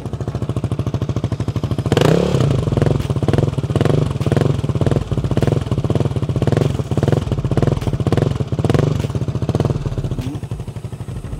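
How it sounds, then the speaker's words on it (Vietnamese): A Honda CB150R motorcycle fitted with a modified aftermarket exhaust idles with a loud, close, rapid putter, then revs repeatedly in rhythmic surges for about ten seconds, with no talking. "để cho anh em nghe tiếng cái bô móc"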